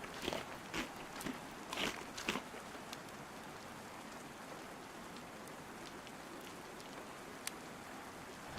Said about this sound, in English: I think it's just the rain sound is kind of strange.